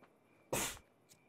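A single sharp sneeze bursts out close by, loud and brief, followed by a faint breathy puff a moment later against a quiet background.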